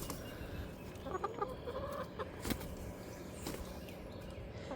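Backyard chickens in a coop bedded with pine shavings cluck softly and intermittently in the morning. The quiet calls and brief squawks are scattered over low background noise, with no talking.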